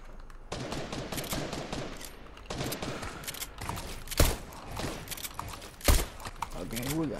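Bursts of rapid gunfire in the Fortnite video game, fired during target practice: repeated cracks and volleys with a couple of sharper, louder shots, all under a steady stream of someone talking.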